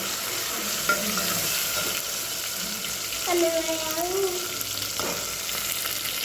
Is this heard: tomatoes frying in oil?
yes